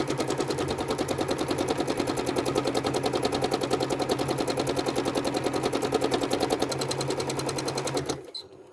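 A sewing machine quilts serpentine lines with a rapid, steady mechanical stitching rhythm, loud and close, running continuously for about eight seconds before stopping abruptly.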